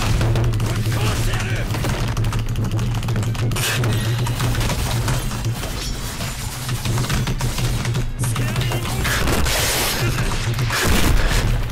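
Cannon attacks in the Roblox game YBA (Your Bizarre Adventure) boom and crackle in repeated bursts over a steady droning background, loud and dense throughout about twelve seconds of game noise.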